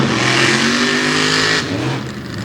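A race car at an All Star Championship event roars as it accelerates hard out of a corner, its engine loud and close with a steady high-pitched drone that shifts in tone near the end.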